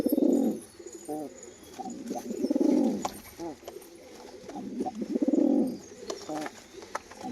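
Pigeons coo in repeated low, throaty rolling bursts, three main swells with softer murmurs between them, fairly close and clear.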